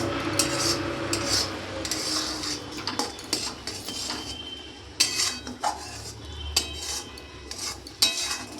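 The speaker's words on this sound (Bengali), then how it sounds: "ভালো করে একটু নাড়াচাড়া করে নিই" A peanut and jaggery mixture stirred in a pan, metal spoon scraping and clinking against the pan in an irregular rhythm, close and moderately quiet.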